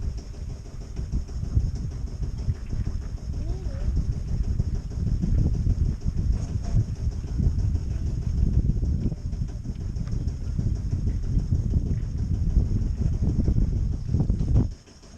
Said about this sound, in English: some boat barrelling down the anchorage towards us there, look.